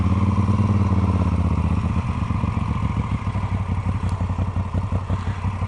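A motorcycle rides along Route 66, its engine rumbling steadily up close with a fast, pulsing beat and some rattling clatter, and no one speaks.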